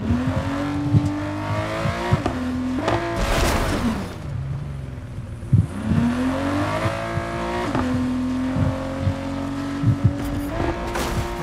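Car engine in the Fortnite video game revving and accelerating, pitch rising and dropping with gear shifts over about eleven seconds, with brief tire squeals, loud and close.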